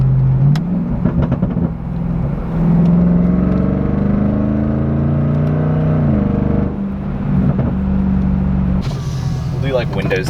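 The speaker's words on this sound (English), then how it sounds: "Then if I downshift, you can hear there's some backfire." A Range Rover with a full aftermarket exhaust build drones loudly from inside the cabin, revs rising then dropping on a downshift with brief crackling pops, while someone talks over it.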